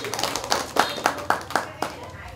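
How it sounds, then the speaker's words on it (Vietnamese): Guests at a Vietnamese wedding ceremony clap in a run of distinct, evenly spaced claps, fairly close, with room echo and a voice over the loudspeaker. "Xin các cụ và các vị quý ông bà một tràng vỗ tay để chúng ta chúc mừng nhau."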